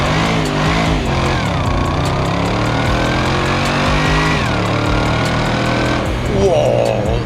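Old high-mileage V8 car accelerating hard, engine note climbing steadily in pitch through the gears with a loud, strained drone from inside the cabin, people talking over it.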